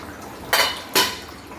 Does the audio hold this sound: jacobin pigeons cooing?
no